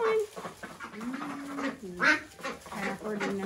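Welsh Harlequin ducks and ducklings in a coop quack and chatter in short, uneven calls close by, mixed with soft human talk.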